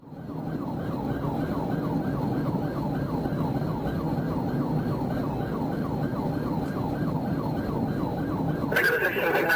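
A police car siren wails in a fast repeating yelp, loud and close, during a pursuit, with the vehicle engine rumbling underneath and a sharper tone switching in near the end.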